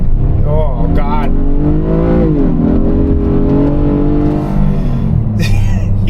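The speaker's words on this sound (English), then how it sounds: "That is a minivan revving like a highly powered performance SUV." A 2025 Honda Odyssey minivan's V6 engine revs up as it accelerates, a loud, steady drone with pitch rising and falling over several seconds. Short bursts of speech and noise occur near the start and the end.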